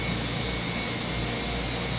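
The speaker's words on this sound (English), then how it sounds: "Oh, listen to that engine start, man." Airliner jet engine spooling up during startup in Microsoft Flight Simulator 2020, a steady loud roaring whine with broad rushing noise, heard alone.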